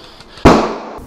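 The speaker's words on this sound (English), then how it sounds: "Give me a banger." An airsoft banger grenade detonates during an outdoor skirmish, a single sharp loud bang with a short rumbling decay after a quiet lead-in.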